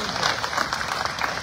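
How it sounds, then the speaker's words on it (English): Steady audience applause fills a town-hall legislative update hosted by a congressman, continuous close clapping with a speaking voice faintly mixed in underneath. "I want to applaud that young guy for being here."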